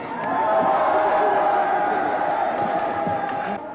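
A large crowd cheers and roars continuously outside Number 10 Downing Street in 1982, a dense, loud, sustained wall of voices rising and holding before easing off.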